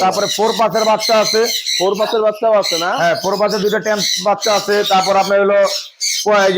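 Parrots at the Mirpur bird market, where macaws and African grey parrots are sold, squawk loudly and close by in rapid, overlapping bursts of raspy calls with brief pauses.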